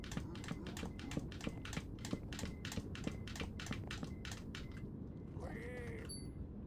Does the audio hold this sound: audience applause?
no